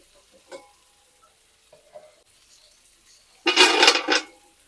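Oil heating in a pan for fish mandi stays near silent at first, with a few faint clinks, then erupts into a loud, close burst of hissing sizzle for about a second.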